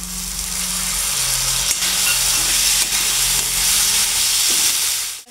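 Soaked chickpeas hit a pan of sautéing vegetables for spiced masala rice, giving a loud, steady close sizzle with a few faint stirring scrapes and no voices.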